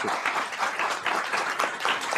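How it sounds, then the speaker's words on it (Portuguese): Audience at a software engineering meetup applauding two guest speakers, a steady, moderately faint patter of many hands clapping throughout, with no voices. "Uma salva de palmas para eles, gente."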